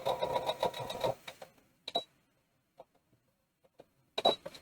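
A sewing machine stitches a fabric bag closed in a short busy burst of rapid mechanical clatter, then stops, leaving scattered clicks and taps and a brief final rattle, close but fairly quiet.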